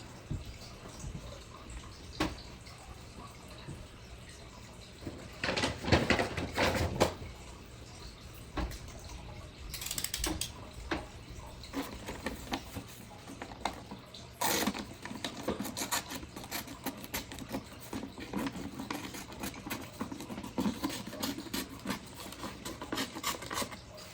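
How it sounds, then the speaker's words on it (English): A razor blade scrapes excess material off the surface of a handmade sewing box, producing repeated close, dry scratching strokes in short bursts with brief pauses between them. "I am going to grab my razor and just get rid of most of this"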